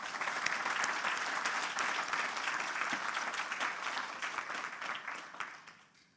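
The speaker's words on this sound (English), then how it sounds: "Can I have a round of applause" A crowd claps steadily in sustained applause at a graduation ceremony, fading out toward the end.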